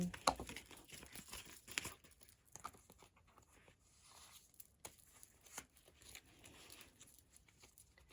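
Soft, close papery crinkling and rustling in irregular bursts as tarot cards are handled and shuffled, with no talking.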